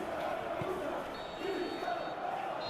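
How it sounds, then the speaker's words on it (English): A football match crowd reacting in the stadium, a dense, steady roar of many voices heard from a distance throughout, with no single voice standing out. "you can feel and hear how the crowd are reacting to all of this"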